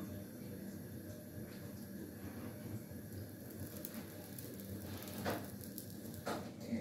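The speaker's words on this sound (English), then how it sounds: "you can see the magnesium ribbon burning with a white dazzling flame" Magnesium ribbon burning on a gas stove gives a steady faint hiss and crackle, with a couple of brief louder pops toward the end.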